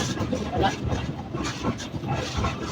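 A Nakshikantha commuter train rumbles steadily as it pulls into Padma railway station in Shariatpur, a low continuous rolling noise heard from aboard with faint murmuring around.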